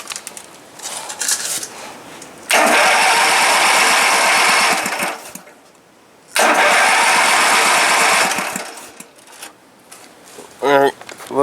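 A Wheel Horse garden tractor engine cranks over in two long, loud, sustained starter bursts separated by a brief pause, with quieter mechanical sounds before and after.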